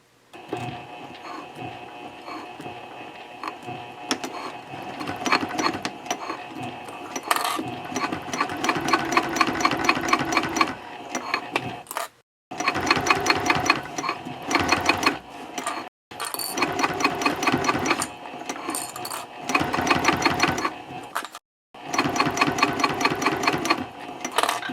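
A sewing machine stitches through heavy Cordura fabric a scant quarter inch from the top edge, running in steady loud bursts with short pauses between passes for back stitching.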